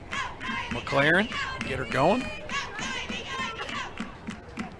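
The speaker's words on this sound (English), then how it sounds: "Hear that Hatters dugout" Stetson Hatters players cheer and chant from the dugout at a college softball game against Florida State, a steady mix of shouted encouragement and crowd noise running under a broadcaster's voice.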